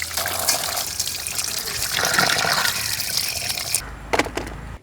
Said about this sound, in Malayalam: വെള്ളമല്ലേ പൈപ്പിൽ അപ്പം നമുക്ക് നല്ലപോലെ ഒന്ന് ഉരച്ച് കഴുകാം